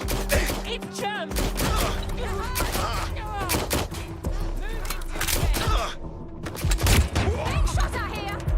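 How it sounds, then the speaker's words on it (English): Rapid gunfire bursts in Watch Dogs Legion crack and rattle almost nonstop, loud and close, with shouting voices mixed in. "Being shot at here!"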